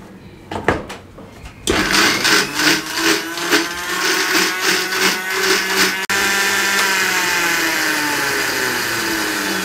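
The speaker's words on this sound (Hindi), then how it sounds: "और इसको अच्छे से हम ग्राइंड कर लेंगे" A blender grinding falsa berries with water for falsa sharbat, starting with a few sharp knocks, then a loud whirring motor that pulses rhythmically before settling into a steady, high, continuous grind.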